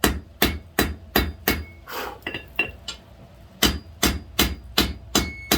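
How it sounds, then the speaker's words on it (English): Blacksmith's hammer striking a hot steel firepit poker on the anvil, a steady run of sharp ringing clangs about every half second, close and loud, with a brief pause of scraping and lighter taps midway. "So again, one more time, hitting the corners down, lighter towards the end."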